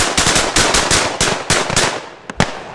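Rapid volley of loud, close shotgun blasts during a European bird hunt, a dense burst of overlapping reports followed by two sharper separate shots near the end.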